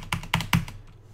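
Three quick clicks of keys on a computer keyboard, close and fairly quiet, followed by a brief trailing tap with no speech.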